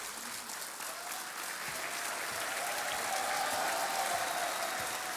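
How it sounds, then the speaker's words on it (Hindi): A TV game show studio audience, on the quiz KBC, applauds in a long, even burst of clapping, with a faint tonal music bed underneath. "तालियां बजती रहे देवी और सज्जनों"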